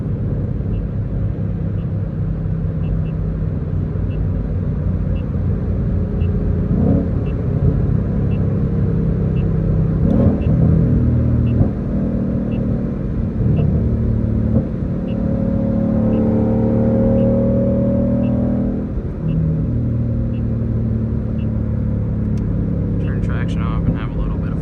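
A stock Shelby GT500 drives on a road, its engine a steady, loud low rumble and droning hum with mild swells in revs, while someone talks over it.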